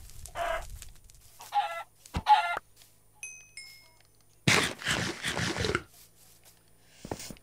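Chicken clucks in a blocky survival video game, a few short bursts of squawking near the start, then a burst of flapping or scuffling noise, alone with no talk.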